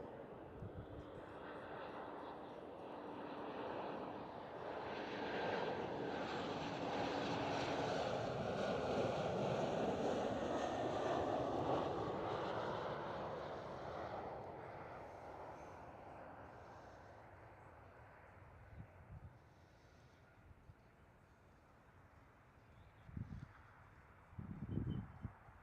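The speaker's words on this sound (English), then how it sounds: "Next one up is KLM Cityhopper" A KLM Cityhopper Embraer E190 jet airliner roars past, building from distant to a loud peak and fading away, followed by quieter surroundings with a few brief knocks and rustles.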